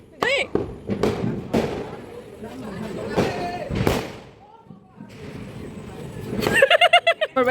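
Diwali firecrackers burst in a series of sharp, loud bangs spaced a second or so apart, with people talking over and between them.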